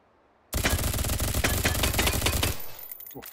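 Rapid automatic fire from an SRS-2 in the VR shooter Hot Dogs, Horseshoes & Hand Grenades: a loud, dense burst of shots lasting about two seconds after a brief quiet start, then cutting off into a fading tail.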